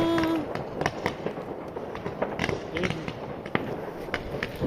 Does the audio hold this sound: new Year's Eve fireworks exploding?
yes